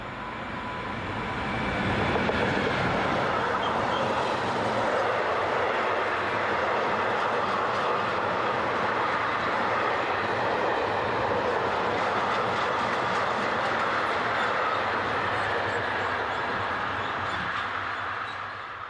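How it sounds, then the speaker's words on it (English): Eastbound freight train hauled by locomotive 145034 rumbles past at night, a broad steady roar with rhythmic wheel clatter that swells in quickly and holds for the whole pass, loud and close. "Our first train pierces the darkness as 145034 approaches with headlights on full and is seen in charge of this eastbound freight."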